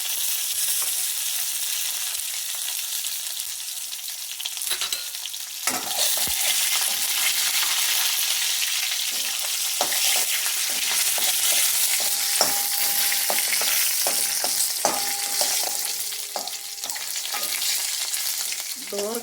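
Garlic, dried chilies, mustard seeds, cumin and curry leaves sizzle in hot oil while being stirred for a sambar, a continuous bright crackle with occasional sharper pops and scrapes of the spoon.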